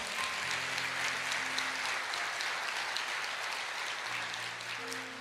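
A church congregation applauds steadily for several seconds at a Portuguese-language worship service, dense even clapping with faint sustained music tones underneath.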